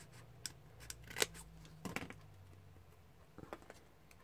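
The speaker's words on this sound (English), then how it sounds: "So I'm just going to cut this little bit down to size" Scissors snip a small piece of card paper to size for a handmade teacher's card, a few crisp close cuts spread out with quiet pauses between them and no talking.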